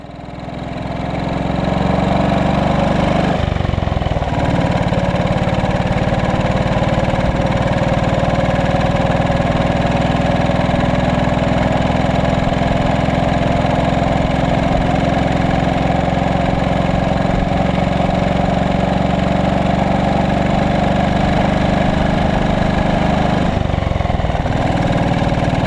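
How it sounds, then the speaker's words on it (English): A motorcycle engine drones steadily and loudly for a long stretch while riding along a coast road by the seafront, with brief dips in tone that suggest gear changes. "We're soon chugging along the seafront to park in the motorcycles section."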